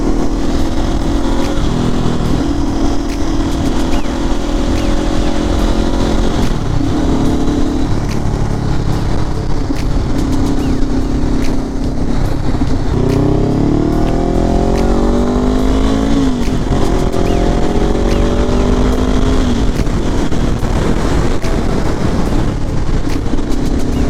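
Car engine revving hard and climbing in pitch, loud and sustained with wind noise, rising sweeps toward the end.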